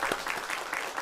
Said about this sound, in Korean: 예, 크게 박수로 환영하겠습니다